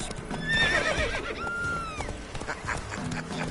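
Roach, Geralt's horse in the Witcher 3 video game, gives a clear whinny while hooves clop steadily underneath, close and moderately loud.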